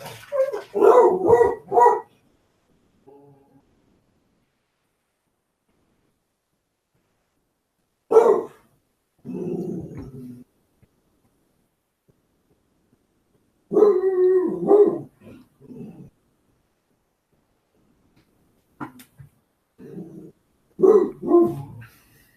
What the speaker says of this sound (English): You're going to hear the dog freak out here